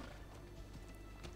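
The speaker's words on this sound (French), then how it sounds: "moi j'y vais à cheval, c'est plus stylé" Horse hooves clip-clop faintly in quick, steady rhythm as a mount is ridden in Assassin's Creed Odyssey, with game ambience underneath.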